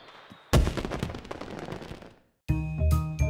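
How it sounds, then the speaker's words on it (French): Cartoon fireworks go off in a French children's animated episode, a burst of rapid crackling pops and booms that fades out, then a short silence, then a bright musical chime-like section with further pops over it. "On peut pas arrêter les booms, mais on peut les rendre moins forts. Les feux d'artifice."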